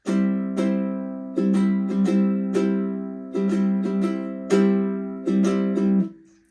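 Ukulele strummed in a steady, bouncy down-and-up pattern, bright chords ringing close and clear with no voices.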